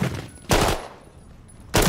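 Two sharp bursts of Call of Duty: Modern Warfare 3 gunfire, one near the start and another at the end, loud and close with a quieter stretch of ambient game noise between them.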